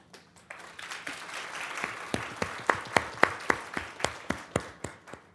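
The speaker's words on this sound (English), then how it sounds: "And I appreciate all the applause" An audience at a Fort Bend County Court at Law event claps, starting scattered and building into applause with increasingly sharp, evenly spaced claps that carry on without any speech.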